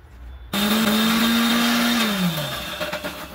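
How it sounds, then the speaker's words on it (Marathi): A mixer grinder grinding green chillies switches on abruptly and whirs at a steady high pitch, its motor tone dropping as it slows near the end. "आपण सर्वप्रथम मिरच्या मिक्सरला फिरवून घेऊ"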